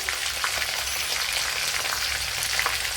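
Chopped green chillies frying in a pan for a dates and gooseberry pickle, a steady, close hiss of sizzling oil running without a break for the whole moment.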